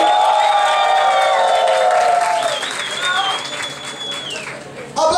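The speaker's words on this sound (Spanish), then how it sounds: "Aplausos para Cassandra Romarini." Loud, steady applause from a studio audience at a televised game show, layered with music carrying held melodic tones, then a sharp burst near the end.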